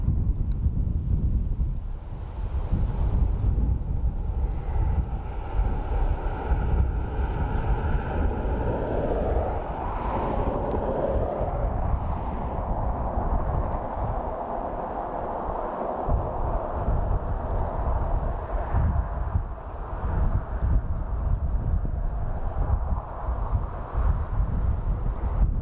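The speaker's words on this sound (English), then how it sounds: "the wind blowing in my face" Steady wind buffets a microphone outdoors at Dublin Airport, a continuous low rumbling roar that fills the whole stretch, with faint distant aircraft noise swelling underneath midway.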